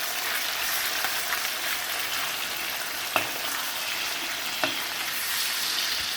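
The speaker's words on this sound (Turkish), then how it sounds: "Şimdi yıkamış olduğumuz etimi ilave ediyorum. Artık kavurma işlemine başlıyoruz." Washed meat frying in its own rendered fat for Turkish kavurma, with no added oil: a constant close sizzle and crackle, broken by a couple of sharp clicks from the pan.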